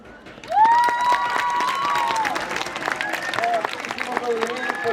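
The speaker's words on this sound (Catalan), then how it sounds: "Un aplaudiment per tots els alumnes que han fet aquestes gloses." An audience at a Sant Antoni and Sant Sebastià school celebration claps for students who recited verses: a dense burst of applause with cheering and excited voices, loud and sustained after a brief quiet start.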